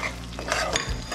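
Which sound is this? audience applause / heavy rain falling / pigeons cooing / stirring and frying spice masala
stirring and frying spice masala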